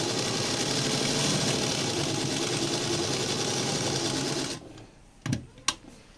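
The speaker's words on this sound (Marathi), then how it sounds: "मग जेवढी जास्त शक्य आहे तेवढी किनारीला टिप मारायची." A sewing machine runs a continuous stitch along a fabric edge, a loud, steady, close mechanical whir for several seconds that stops abruptly, followed by a couple of short clicks and handling knocks.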